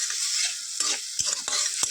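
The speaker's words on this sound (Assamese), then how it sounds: "ভালদৰে ভাজি থাকিব লাগিব" Bitter gourd curry with mustard sizzling loudly in a pan while a spatula stirs and scrapes, giving several sharp knocks over the steady frying hiss.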